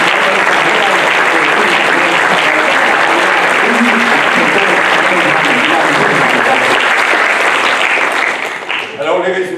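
An audience at a national diploma award ceremony applauds at length, a thick continuous roar of clapping that thins out near the end as a voice begins to speak.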